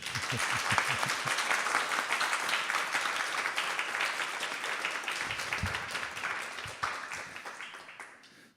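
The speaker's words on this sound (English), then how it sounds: "he wants to clap. Go ahead," A crowd at an ISKCON Krishna Katha talk in Silicon Valley applauds with dense, sustained clapping that holds steady for several seconds, then fades out toward the end.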